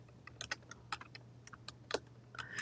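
Short bursts of keystrokes on a computer keyboard as a file name is typed, irregular clicks close up over a steady low hum, with no talking.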